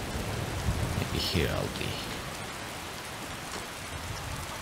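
Steady rain falls on a surface in a dense, even hiss that carries through the whole passage, with a person speaking briefly over it.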